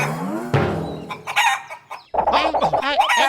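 A cartoon chicken clucks and squawks loudly up close in short bursts, mixed with other cartoon sound effects.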